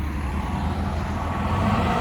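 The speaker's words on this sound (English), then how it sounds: "You hear that truck running, huh?" A big rig truck, being towed with a differential fault, runs with a steady low diesel rumble that stays close and constant, with no pauses and no talk over it.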